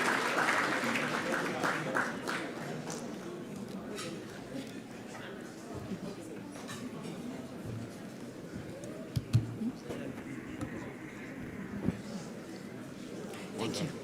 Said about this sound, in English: A big round of applause once again for our panelists and fantastic